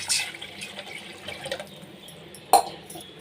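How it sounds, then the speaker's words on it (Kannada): Tamarind juice pours into a pan of fried onions and chillies, making a soft liquid trickle with light splashes, faint at first and ending in one brief, sharper splash. "ಇದಕ್ಕೆ ಹುಣಸೆ ರಸವನ್ನು ಹಾಕೋಣ"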